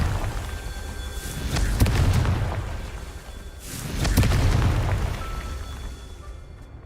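Two deep, rumbling magical blasts from the Confringo fire spell in Hogwarts Legacy, each swelling and fading over about a second with a crackling tail, spaced a couple of seconds apart over a low ambient game background.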